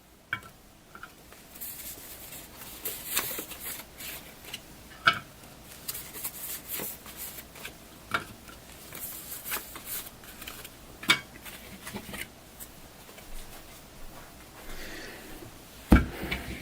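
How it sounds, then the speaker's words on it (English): A giant stack of fast action cards for the Inside the Crease hockey board game is shuffled lightly, making soft papery riffles and scattered sharp little clicks and taps at a quiet, close level with no talking. "we're going to lightly shuffle this giant stack of fast action cards"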